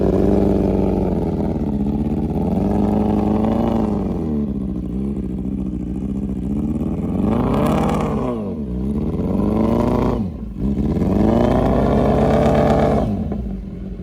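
A Kawasaki Z900 motorcycle engine drones loud and close as the bike rides onto a beach, its steady throttle swelling and dipping in pitch, with a few brief revs rising near the end.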